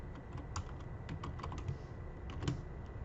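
Quick, soft clicking of computer keyboard keys as a short survey question is typed, an uneven patter of keystrokes at low volume with no voices.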